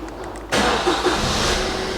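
A Suzuki Vitara engine catches abruptly after a quiet moment and settles straight into a loud, steady idle close by, with no voices over it.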